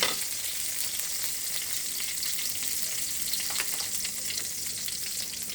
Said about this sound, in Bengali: তো এখন আমি এই সবুজ ক্যাপসিকামটা দিয়ে দিচ্ছি।